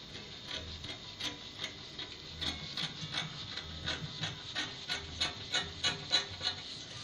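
Scissors cut fabric along the back armhole of a jumpsuit pattern, making a soft, steady run of snipping and ticking sounds that grow slightly louder toward the end, with no voices.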